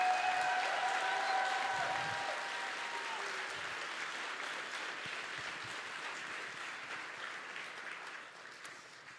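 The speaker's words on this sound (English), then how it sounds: "Please give our governor one more hand." Sustained audience applause for Texas Governor Greg Abbott at a youth summit, a dense crowd clapping steadily that tapers off slightly across the clip.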